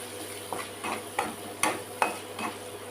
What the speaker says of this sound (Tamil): 1 நிமிஷத்துக்கு ஒருக்கா இப்படி கிளறி விட்டுறணும்.